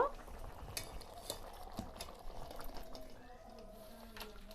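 Boiled tomatoes are tipped from a pan onto a plate, with quiet clinks and scrapes of a spatula and metal and soft wet slides at low level.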